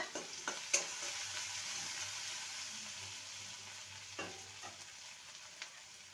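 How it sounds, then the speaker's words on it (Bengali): Ginger and green chilli paste with a pinch of asafoetida frying in a pan for a vegetarian drumstick curry, a steady hiss of oil with occasional spoon taps and scrapes, quiet and close, no one speaking. "হিং দেব আর দিয়ে দেবো আদা কাঁচা লঙ্কা বাটা ভালো করে কষিয়ে নেব"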